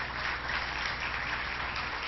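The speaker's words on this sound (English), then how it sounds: "Let's give her a round of applause." An audience applauds the New York Commissioner of Labor at an event in Albany, with dense, steady clapping that holds at an even level for the whole stretch and no voices over it.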